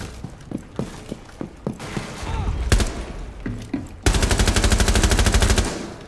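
Gunfire in the video game Rainbow Six Siege begins as scattered single shots and thuds, then breaks into a loud sustained automatic burst that fades near the end.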